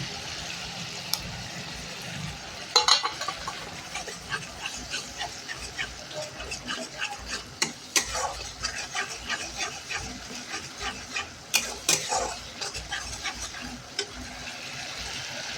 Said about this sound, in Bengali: কাজু লং ওগুলো সব পেস্ট করা ছিল, সব একসঙ্গে মিশিয়ে দিয়ে দিলাম।